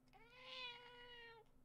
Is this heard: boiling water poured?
no